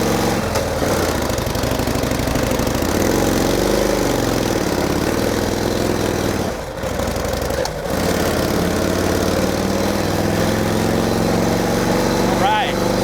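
A 1949 Harley-Davidson Enduro Panhead motorcycle engine pulls steadily uphill, a continuous loud rumbling drone with a brief dip in revs midway, recorded close with wind noise and no talk.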